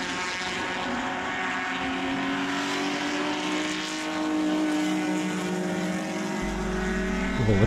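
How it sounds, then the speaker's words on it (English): A Toyota Celica race car at the 1977 Bathurst 1000 in Australia charges down the Conrod Straight, its engine a sustained, rising drone heard from a distance throughout, with no talking. "And charging down Conrod is Peter Williamson in the Celica."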